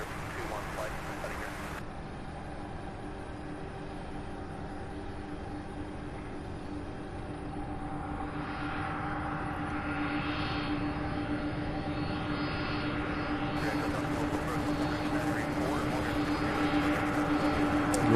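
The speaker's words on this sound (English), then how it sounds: "We'll watch this 737 take off" A Boeing 737 at Louisville airport rumbles down the runway on its takeoff roll, a distant steady jet roar that slowly swells as the run goes on.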